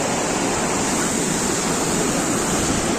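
A river rushing during heavy rain gives off a loud, steady broadband roar like pounding surf, unbroken for the whole stretch with no voices.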